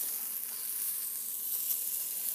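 Chilies roasting in a hot pan for shredded beef, a steady close sizzle with an even bright hiss throughout.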